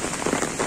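Heavy rain falls steadily during a cold fishing trip outdoors, a dense, even hiss of drops on surfaces with no pauses and no voices.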